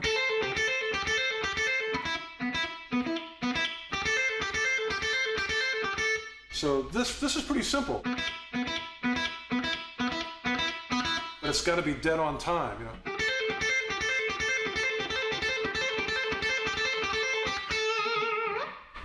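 A distorted electric guitar plays a fast repeating lick, the left hand lifting on and off the strings while the picking stays the same, loud bursts broken by short gaps, with someone talking over parts of it.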